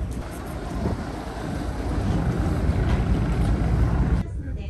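A ferry ride toward Miyajima produces a steady low rumble of engine and water with wind buffeting the microphone, continuous and fairly loud, then dropping abruptly near the end.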